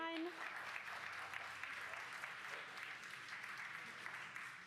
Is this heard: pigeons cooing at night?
no